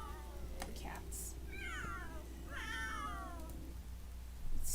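Zombie cats in The Sims 3 game meowing in a few drawn-out, wavering cries, fairly faint and repeated over a steady low game hum.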